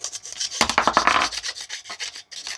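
A hand file rubs back and forth over rough plastic edges, a burst of close, dry rasping strokes in the middle, with lighter scraping before and after and no talking.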